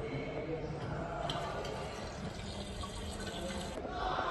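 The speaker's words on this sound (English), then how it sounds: "We clearly have access to clean and safe water just by the pull of the lever." Water runs from a lever-operated tap in a continuous soft hiss and splash, faint and steady throughout.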